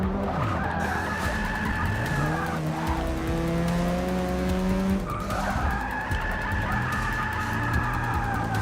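Car tires squealing while drifting through a turn in the Forza 6 demo, long wavering screeches over a loud, revving race engine, easing briefly before another sustained squeal rises.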